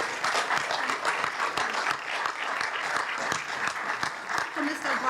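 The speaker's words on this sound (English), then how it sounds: "I'd love to give the school board a round of applause." Applause at a school board meeting, a sustained burst of many hands clapping at steady volume with a few voices and cheers mixed in underneath.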